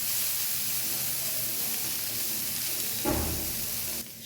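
Bottle gourd greens frying in a pan give a steady broadband sizzle and hiss that runs throughout, with a brief louder burst near the end.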